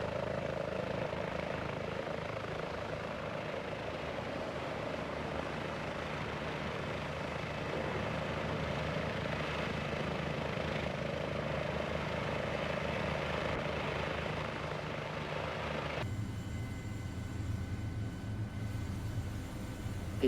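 A Sikorsky S-76 helicopter in a flight simulator game hums in a steady, continuous drone of engine and rotor, holding level throughout with a slight change in tone near the end.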